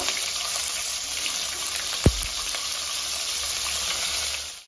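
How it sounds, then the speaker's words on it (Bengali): Bitter gourd pieces fry in hot oil, making a continuous close sizzle with one brief clunk partway through and no talk. "দেখো এই তেলেতে উচ্ছাগুলো দিয়ে দিব।"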